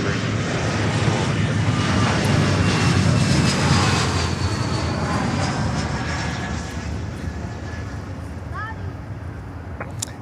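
A Latam Cargo Boeing 767-300 roars overhead near Miami airport, a loud sustained engine drone that slowly fades, with a voice talking over it.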